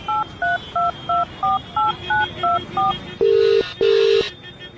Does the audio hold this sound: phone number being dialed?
yes